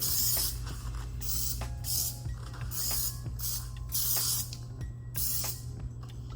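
Several short hissing bursts of a makeup setting spray bottle, one after another with brief pauses, close by over a low steady hum.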